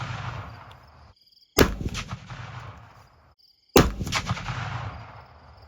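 Two sharp, loud rifle shots from a Savage Trail Hunter Lite chambered in 7mm Backcountry, fired from a shooting stand at an outdoor range, each with a trailing echo, spaced about two seconds apart.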